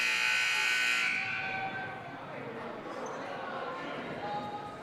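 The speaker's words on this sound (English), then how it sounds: "The buzzer sounded." Game clock buzzer at a men's college basketball game, a loud, harsh tone lasting about a second before cutting off into arena crowd noise and a commentator's voice.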